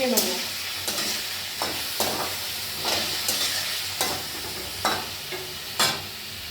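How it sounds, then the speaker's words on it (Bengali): Pineapple chunks for a sweet and tangy Bengali chutney, cooking with fried chilli, stirred in a pan: a steady close sizzle broken by repeated scraping strokes of the spoon at irregular intervals, with no voices. "একটু কিছুক্ষণ নাড়াচাড়া করে একটু গলিয়ে নেবো।"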